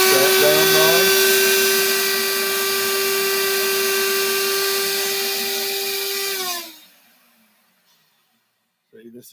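A Music Hall record cleaning machine runs its vacuum wand with a loud, steady motor whine and suction drone, then cuts off abruptly and winds down, leaving near silence before a brief clatter at the end.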